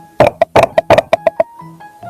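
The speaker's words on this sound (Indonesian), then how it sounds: "Tupai mengetuk pintu." Rapid series of about nine sharp knocks on a door, loud and close, delivered in an uneven quick rhythm, followed by a short quiet tail with faint tonal sounds.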